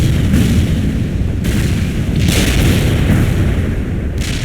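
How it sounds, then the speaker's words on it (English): Rocket artillery barrage in a combat video game, a loud continuous rumble of overlapping booms and blasts rolling through the whole stretch, with sharper bursts breaking in every second or so. "Barrage hit for full effect."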